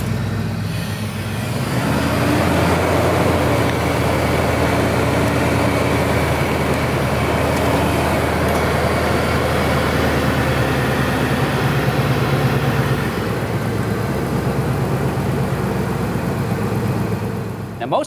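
A car engine idles steadily while running warm during a transmission fluid check, a continuous low hum close by that holds level for the whole stretch, with a slight rise at the start.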